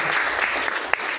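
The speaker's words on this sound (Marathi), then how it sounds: "त्यांच्यासाठी एकदा जोरदार टाळ्या झाल्या पाहिजे" Audience at a network marketing business meeting gives a short round of applause, a dense patter of many hands clapping at moderate volume with a few sharper individual claps standing out.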